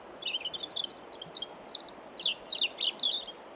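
A small bird at a garden bird table in cold Welsh weather sings a run of quick, high chirps and trills that grow louder and more insistent, heard close and alone over quiet background hiss.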